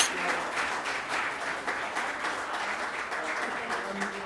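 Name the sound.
applause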